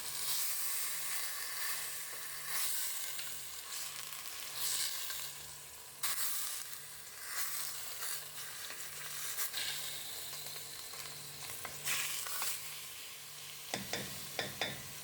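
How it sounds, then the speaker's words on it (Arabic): Meat frying in oil in a pan, with a steady close sizzle running throughout and brief stirring clatter near the end. "انا عييت هكا ندير اللحم تاعي يتقلى"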